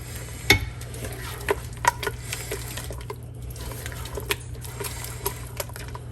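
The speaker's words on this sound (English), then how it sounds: "a little bit of heavy cream. Mix that bad boy all up" Heavy cream being mixed into a meat pie filling in a pan, with soft scraping and stirring clatter, a few sharp spoon knocks against the pan, and a faint sizzle underneath.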